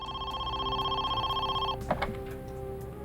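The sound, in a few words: telephone ringing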